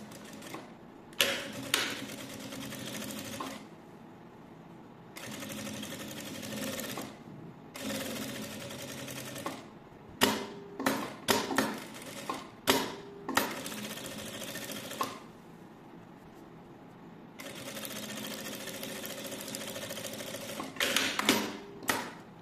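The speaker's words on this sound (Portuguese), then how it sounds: "Eu vou lá na máquina de costura e vou passar a costura nas duas laterais" A sewing machine runs in several rapid stitching bursts along a bag's side seams, with loud mechanical clatter separated by short pauses and a few handling clicks.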